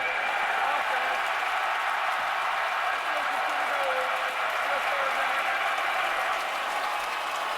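Stadium crowd at a 2013 Florida State at Clemson college football game, a steady broadband roar of many voices held at constant loudness throughout, with a commentator's voice faintly under the noise.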